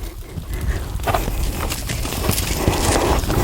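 Horse hooves walking on the ground during a pre-purchase veterinary exam, a steady clip-clop of footfalls close by over a noisy background, with no talk.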